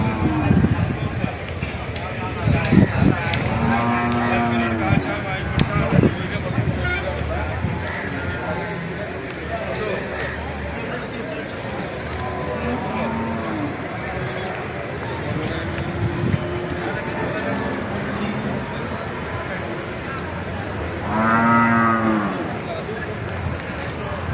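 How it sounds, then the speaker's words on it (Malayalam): Cattle and bull calves low at the Kuzhalmannam livestock market in Kerala, with scattered moos, one drawn-out call near the end, and busy talk and bustle running throughout. "കാളക്കന്നുകളാണ് കൂടുതൽ ഇവിടെ ഉള്ളത് പിന്നെ മൂരിക്കന്നുകളും"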